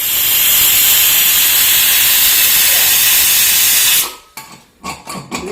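A loud, steady hiss of steam escaping from a pressure cooker whistle while cooking sardines runs for about four seconds, then cuts off, leaving faint clattering and quiet room sounds.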